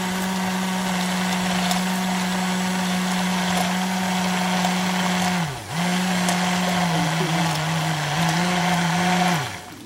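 A blender slowly emulsifying oil into tomato, a steady loud motor whine that dips briefly as the load shifts and then resumes, running on its own without talk.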